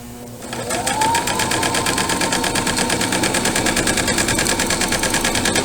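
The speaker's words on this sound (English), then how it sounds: "And then I can continue to sew." A sewing machine stitching through three layers of a pillowcase runs in a fast, steady mechanical whirr that starts up after a brief pause and continues loud and unbroken, with no talking.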